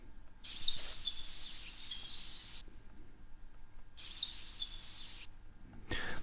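Two bursts of bright, high bird song, each a rapid run of chirps and trills lasting a couple of seconds, separated by a quiet gap, with faint low background rumble from a plane overhead.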